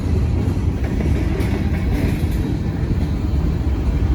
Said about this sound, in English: This is a heavy train.